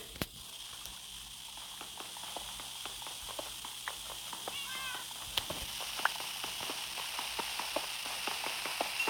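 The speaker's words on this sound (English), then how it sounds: "Those are cats." Cats in the Minecraft video game give a few short, faint meows amid a steady patter of clicking footstep sounds and light background game ambience.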